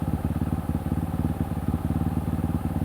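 Honda CRF450 supermoto idling up close, a loud, lumpy single-cylinder putter with an even, rapid pulse and a slight clattery edge throughout.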